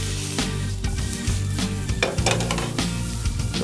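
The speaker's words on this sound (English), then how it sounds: "Now we're gonna saute my mushrooms. Hear that sizzling noise?" Mushrooms sauté with garlic in hot oil in a pan, a loud, continuous sizzle and crackle broken by repeated scraping and stirring clatter from a utensil.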